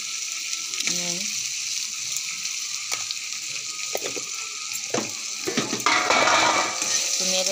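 Vegetables frying in a pan with turmeric and salt, stirred with scraping strokes over a steady close sizzle, with water running briefly near the end; a voice talks now and then.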